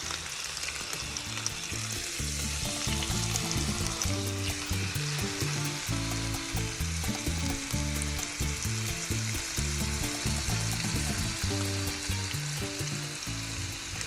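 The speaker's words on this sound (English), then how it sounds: "as the beef is browning on the stove" Beef browning in a pot on a stovetop, a loud, constant sizzle and crackle of frying meat with faint stirring noises throughout, no talking.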